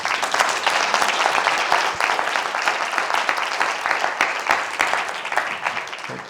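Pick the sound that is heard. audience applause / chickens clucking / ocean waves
audience applause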